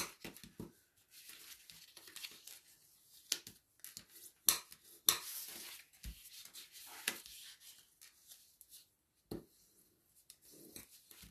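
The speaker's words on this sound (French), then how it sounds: "Maintenant, on plie la boîte. On marque tous les plis." Cardboard box being folded and creased by hand, quiet close scraping, rubbing and crisp crackles in irregular bursts with a few sharper snaps.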